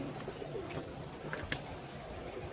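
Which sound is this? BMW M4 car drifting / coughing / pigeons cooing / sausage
pigeons cooing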